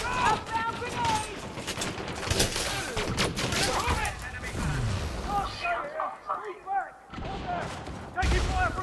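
Dense gunfire fills an on-foot combat zone in the Elite Dangerous video game, with rapid bursts and overlapping shots close by. Voices speak over the shooting, and there are a couple of brief lulls before it resumes.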